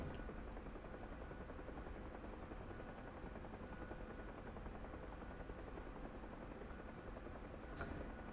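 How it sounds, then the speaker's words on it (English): A Bell UH-1H Huey helicopter in the DCS World flight simulator, its rotor and turbine droning steadily and constantly throughout, fairly quiet, with a brief high tone near the end. "That would be another helicopter coming in."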